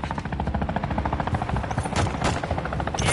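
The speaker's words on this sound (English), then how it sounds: "Friendly chopper gunner servicing targets." Rapid automatic gunfire from a chopper gunner helicopter in Call of Duty MW2, dense continuous bursts over a steady rotor drone, loud and close with a few sharper blasts.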